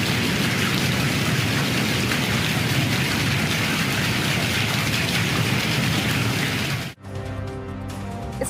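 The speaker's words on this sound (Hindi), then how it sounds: "इस्लामाबाद और रावलपिंडी में रात भर मूसलाधार बारिश" Heavy torrential rain pours steadily and loudly during an overnight downpour in Islamabad and Rawalpindi, then cuts abruptly to quieter sound near the end.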